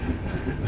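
The 16528 Kannur–Yesvantpur Express rolls along near Bengaluru with a steady, loud onboard rumble and dense low-frequency wheel noise, continuous throughout the short stretch with no voices.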